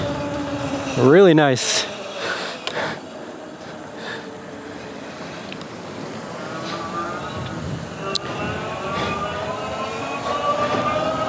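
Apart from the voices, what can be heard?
Viribus SC5 fat tire electric trike motor under throttle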